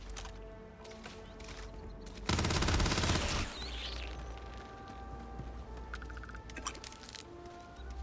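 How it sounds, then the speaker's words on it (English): A weapon fires in the space game Starfield as one dense, loud burst of rapid shots lasting about a second, set against a quieter ambient hum before and after. "I do like the shots that is firing here"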